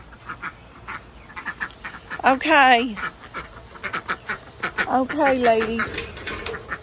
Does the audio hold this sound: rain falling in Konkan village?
no